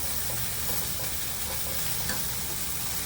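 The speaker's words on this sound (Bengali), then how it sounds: "সবজিটা আমার প্রায় ভাজা হয়ে গেছে, এর থেকে বেশি আমি আর ভাজবো না" Mixed vegetables with sponge gourd frying in a pan give a steady, even broadband sizzle throughout, with faint stirring scrapes and no talk.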